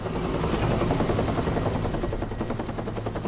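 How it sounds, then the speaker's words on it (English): Helicopter in the action game Metal Gear Rising: Revengeance, a loud steady rotor thrum with a whining engine tone, sustained and close throughout with no talk over it. "A helicopter? Really?"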